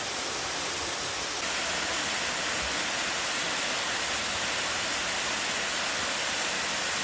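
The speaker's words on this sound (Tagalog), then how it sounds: "Nakaka-relax talaga pag masdan ang waterfalls dito sa San Mateo," A waterfall in San Mateo, Butuan City, heard close up as a steady, dense rush of falling water. It stays constant throughout, with no voices.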